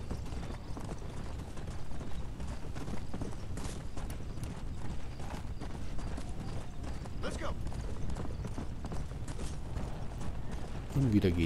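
Horse hooves galloping across the open prairie in the video game Red Dead Redemption: Undead Nightmare, a steady rapid clip-clop with creaking tack, continuous and fairly loud, with game sounds underneath.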